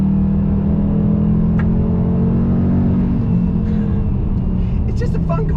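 A Dodge Challenger T/A muscle car engine drones loudly while a smooth downshift drops the pitch midway, the rumble continuing steadily with a short burst of talk toward the end.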